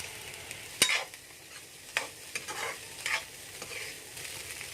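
Egg fried rice is stir-fried in a pan with salt and Ajinomoto over a moderate sizzle, broken up by several sharp spatula clanks and scrapes spaced about a second apart.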